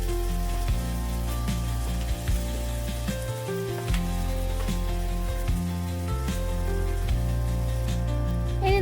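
Chicken shakshuka ingredients sizzle and fry steadily in a pan while being stirred, a continuous close crackle with occasional scraping from the stirring and no talk.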